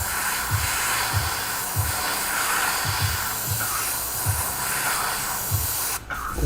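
An airbrush sprays black paint onto a 3D printed scorpion mask, giving a loud, steady close-up hiss that runs almost continuously and cuts off briefly near the end.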